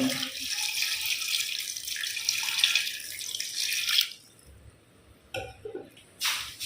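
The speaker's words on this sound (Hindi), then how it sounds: "जी व्यूअर्स, इसके बाद हम इसमें पानी डाल देंगे।" Water poured into a cooking pot of mutton pulao with meat and seasoning, a steady broadband splash for about four seconds, then quieter clinks and a short final pour near the end, with no talk.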